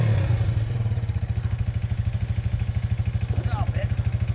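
A Yamaha Grizzly 80 ATV engine idles with the choke on, a steady rapid low putter pulsing close by throughout, with people talking over it.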